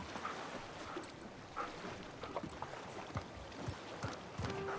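Vicky the dog in Uncharted 4 making soft whimpers and small yips among footsteps and faint ambient game sounds, quiet and close, with no talk over it.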